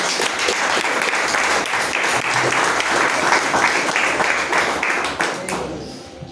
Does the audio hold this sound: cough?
no